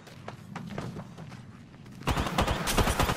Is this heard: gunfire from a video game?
yes